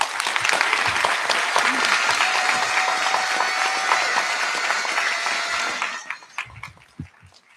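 A crowd at a board of education meeting applauds staff receiving tenure, with dense, steady clapping that thins out after about six seconds into a few scattered claps and light room noise.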